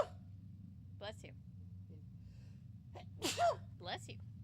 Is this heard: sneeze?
yes